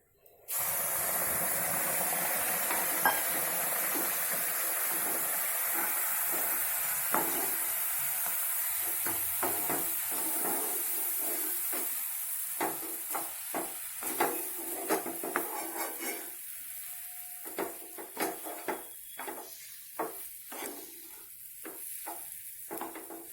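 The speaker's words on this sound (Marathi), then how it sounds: "गरम दूध याच्यामध्ये घालायचं." Hot milk hits roasted semolina in a pan for sheera, giving a loud burst of hissing sizzle that slowly fades, followed by scattered scraping and stirring clatter of a spoon against the pan.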